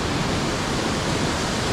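Clear mountain river water rushes steadily in Sikkim, a dense, continuous roar close by with no voices over it.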